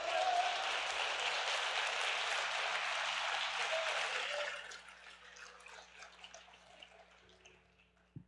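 A church congregation at a couples' service breaks into sustained, dense applause that fills the room, then tapers off after a few seconds into scattered faint claps and quiet.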